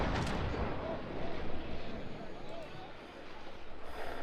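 Cannon fire from a sailing warship battle in the naval game Naval Action, heavy 6-pounder guns booming and rumbling, with a sharp blast at the start followed by continuous low rolling thunder as a voice talks over it.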